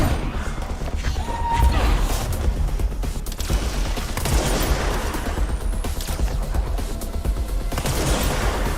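Sustained gunfire aimed at an enemy in the video game Control, a dense barrage of shots and impacts with booming low rumble throughout, loud and continuous.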